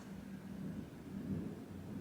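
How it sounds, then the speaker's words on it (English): Distant thunder rumbles outside during a storm, a low, faint, continuous roll with no talking. "thunder and lightning outside"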